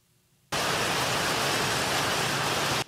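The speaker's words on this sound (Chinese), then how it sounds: "台中福寿山下起冰雹雨，一颗颗透明小冰雹有如冰球从天而降。" Hail falls at Fushoushan in Taichung, Taiwan, beginning abruptly as a loud, dense, steady hiss of small ice pellets pelting surfaces after a quiet opening.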